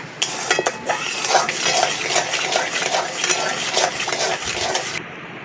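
A metal spoon scrapes and clinks against a pot as sugar is stirred into cooked tamarind, rapid loud repeated scraping with a soft sizzle beneath, stopping abruptly near the end.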